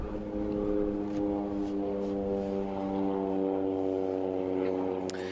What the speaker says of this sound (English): just got an aircraft leaving one of the lodges, folks. That's probably what you can hear in the background.